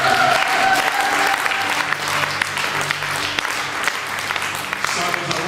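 Applause from a church congregation fills the space continuously, dense and fairly loud, with voices and cheering mixed in throughout and a faint sustained tone at the start.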